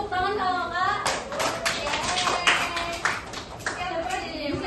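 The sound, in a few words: children clapping hands, applause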